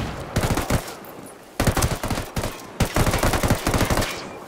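Automatic gunfire in the tactical shooter Ghost Recon Wildlands comes in three dense, loud bursts of rapid shots with brief pauses between them, and no voices.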